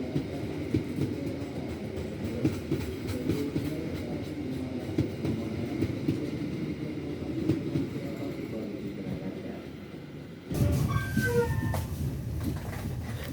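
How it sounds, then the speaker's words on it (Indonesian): A parcel freight train in Indonesia rumbles past steadily with low, rolling noise for several seconds, then the sound shifts abruptly as high squeals and brighter clatter take over near the end. "Setelah kereta barang parsel melintas"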